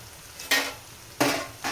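Garlic paste and curry leaves hit hot oil in a pan, giving two sharp, bright sizzling bursts followed by a third, each flaring up suddenly over a quiet background hiss.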